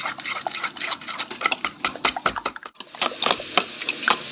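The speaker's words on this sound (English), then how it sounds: "Stir it rigorously to the left, to the right to make it smooth." Beaten egg being stirred briskly in a bowl, a steady run of close, sharp clinks and scrapes of utensil against the bowl with a brief pause midway.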